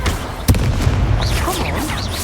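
A Confringo fire spell explodes in Hogwarts Legacy with a sharp, punchy boom, followed by a rumbling tail and swirling magical whooshes.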